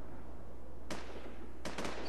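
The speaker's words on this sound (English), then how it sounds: "We're really getting shot at in this base." Gunfire in the War Inc Battlezone game: a few sharp distant cracks, one single shot followed by a quick burst of two or three, over a steady low background hum.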